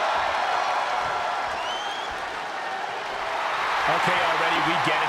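A wrestling arena crowd roars in the WWE 2K22 video game, a dense, loud, continuous cheer with a commentator talking over it.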